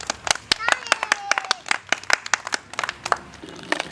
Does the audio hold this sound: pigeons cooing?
no